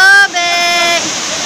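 Balay Sawa Falls in Samboan: a constant close rush of falling water with a steady hiss, and a voice exclaiming loudly over it at the start.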